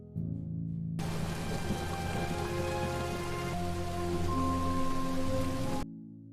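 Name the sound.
heavy rain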